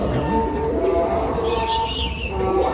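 A male Madrasi pigeon, an old black-tailed bird, coos in low soft repeated calls close by, with other birds chirping faintly in the background.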